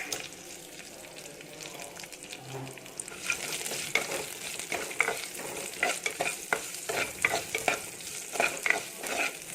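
Chopped onions and curry leaves hit hot mustard oil in a home kitchen, a quiet start swelling into a loud, close sizzle with crackles and stirring scrapes, no voices.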